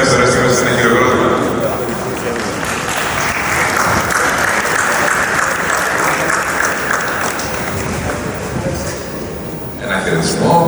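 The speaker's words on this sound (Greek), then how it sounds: "Ωραίες στιγμές, ένα χειροκρότημα." Sustained audience applause fills a Greek awards ceremony at the Zappeion Megaron, steady and dense throughout with voices mixed into the crowd noise.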